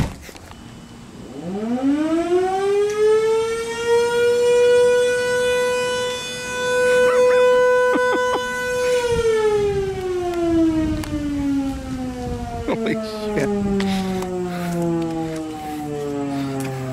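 Model 2-120 civil defense siren winding up to a loud sustained wail, then dropping in pitch as it winds down, heard alone from a short distance outdoors.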